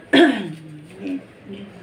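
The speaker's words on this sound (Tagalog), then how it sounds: "Parang dry yung ubo niya" A hospitalized elderly mother coughs once, close and sharp, followed by fainter throaty rasps and a rough wet-dry clearing, with no other voices.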